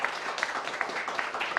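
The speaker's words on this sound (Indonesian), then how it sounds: "Tepuk tangan dulu buat Adiani yang berkenan" A small audience applauds a guest arriving at an Indonesian football talk show, with brief, fairly soft clapping for just over a second.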